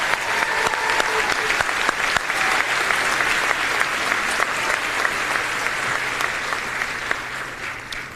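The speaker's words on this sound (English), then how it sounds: "A round of applause." Sustained, loud crowd applause at the John Jay Senior High School class of 2024 graduation ceremony: dense, steady clapping from a large audience that fills the whole stretch and eases slightly at the very end.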